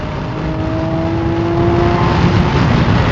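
Lamborghini Aventador LP 740-4 S Roadster, a 740-horsepower all-wheel-drive 2019 supercar, roaring loudly under hard acceleration, its engine note climbing steadily in pitch with a dense, aggressive rasp close to the microphone.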